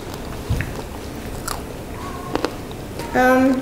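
Crunchy bites into homemade gluten-free vegan cinnamon maple granola: a few sharp, close crunches spread across a quiet room, followed by a brief humming, voice-like tone near the end.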